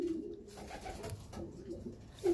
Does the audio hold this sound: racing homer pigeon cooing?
yes